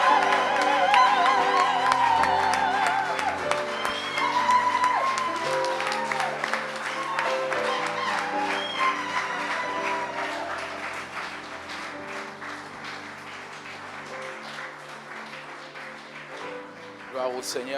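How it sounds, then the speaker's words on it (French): A church congregation applauds and cheers for the prophet at a worship service, with loud dense clapping and raised voices that gradually fade while an amplified voice speaks over the crowd. "Est-ce qu'on peut acclamer pour le prophète Jean Toto Chabani? Est-ce qu'on peut acclamer le Seigneur?"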